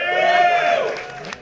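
Crowd at a San Diego Comic-Con 2025 panel for Jason Universe roars and cheers, a loud, sustained burst of voices that tapers off over about a second.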